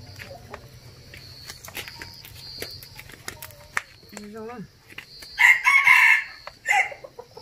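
A rooster crows, with a chicken clucking around it, in a rural farmyard during a family ceremony. The crow and clucks come in loud bursts near the end, over faint background sound, with voices talking nearby.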